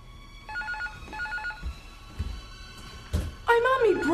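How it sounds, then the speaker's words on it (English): An indoor telephone rings in short double trills repeated three times, moderately loud, with speech breaking in between and a louder voice at the end. "Barbara, get that phone"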